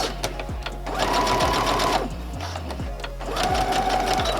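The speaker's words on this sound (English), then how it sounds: "Give it a back stitch." Sewing machine stitching a cloth pad, a steady mechanical whir running almost throughout, with a brief pause near the middle before it starts up again, close and loud.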